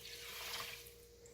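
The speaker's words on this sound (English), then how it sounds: "This is water with peroxide in it. We might have to add a little bit." Water mixed with peroxide poured from a container over seeds in a basement grow room, a faint, thin trickle and splash running steadily, then tapering off quietly.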